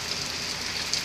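Steady rain falls on a surface, a dense, even hiss of drops close by with no pauses and no voices.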